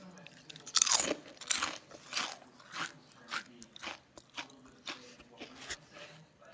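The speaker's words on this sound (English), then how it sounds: "Okay, you can hear the sound whether it's crunchy or not." Crisp bites into crunchy fried taro and banana chips, one loud crack followed by a rhythmic series of closer crunching chews that gradually soften, with no talk over them.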